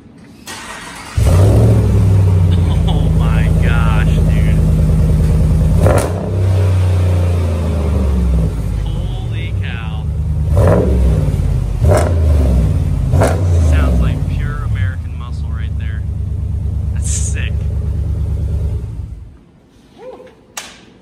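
Cold start of a 2020 Ram 1500 engine fitted with a Pypes M80 muffler: a sharp catch, then a loud, steady idle rumble with several revs that runs about eighteen seconds before shutting off, with people talking over it.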